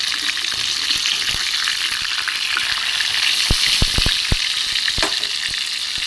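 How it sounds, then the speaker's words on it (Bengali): Shrimp rolls wrapped in Malabar spinach leaves and coated in gram flour batter fry in hot oil, a continuous bright sizzle with scattered sharp pops and crackles, close and steady. "এইভাবে সব কটা আমি ভেজে নেব, উল্টে পাল্টে দেবো।"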